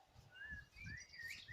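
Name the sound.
ducklings chirping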